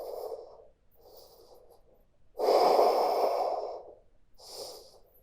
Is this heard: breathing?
yes